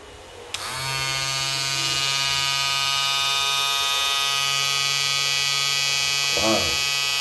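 A plugged-in WAHL Peanut hair clipper switches on with a click and runs as a steady, close, even electric buzz with a constant hum, with a brief voice sound near the end.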